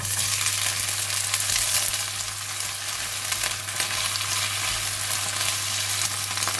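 Vegetables with chili stir-frying for fried rice with kailan, a loud continuous sizzle and hiss from the pan with faint stirring, heard alone throughout.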